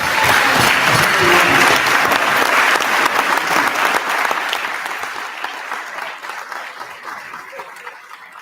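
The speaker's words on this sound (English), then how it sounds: "Please give a full round of applause." Audience at an athletics session of a university alumni convention bursts into a full round of applause, dense and sustained at first, then gradually thinning and fading toward the end.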